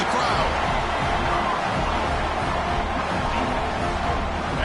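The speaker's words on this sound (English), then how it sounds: "Listen to the crowd." A stadium crowd roars in a steady, loud wash of cheering after an LSU touchdown in the Madden 24 football video game, with no distinct voices standing out.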